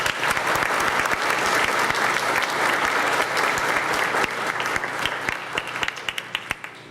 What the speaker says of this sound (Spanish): Recibamos con un aplauso a la señora Lanaway.